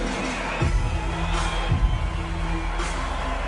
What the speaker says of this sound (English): the crowd, as you can hear, becomes a third character in the story